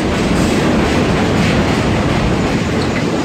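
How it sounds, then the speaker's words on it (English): A train rumbles through a station, a loud, continuous roar of wheels and rail noise with steady clatter and no voices. "Only skipping this train, taking the next one."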